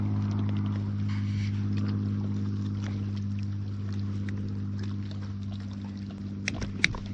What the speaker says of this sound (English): and it's still pumping